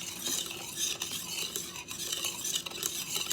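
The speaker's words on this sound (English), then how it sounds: "Now we're gonna give it a good mix" Sweet potato dinner roll dough ingredients being stirred by hand with a utensil in a bowl, a continuous close scraping and swishing with soft clinks, no talking.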